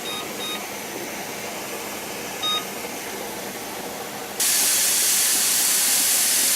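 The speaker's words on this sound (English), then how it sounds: "now we got a lot of steam coming out. So now I'm going to vent it for 10 minutes" Steam hissing steadily from the vent of a pressure canner while dry beans are being canned, a constant broadband rush that suddenly grows much louder and brighter partway through, with a few faint beeps early on.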